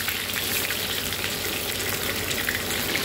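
Snakehead fish fries in oil with garlic in a large pan, a steady, dense, loud sizzle that carries on unbroken without talk.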